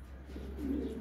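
Domestic pigeons give a soft, low coo near the microphone, a single brief rolling call over a quiet background hum.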